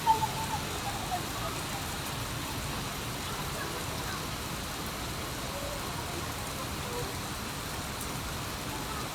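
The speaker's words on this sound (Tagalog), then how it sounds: "lakas ng ulan" Heavy rain pours steadily near a swimming pool, a dense continuous hiss that holds for the whole stretch with one small bump at the start.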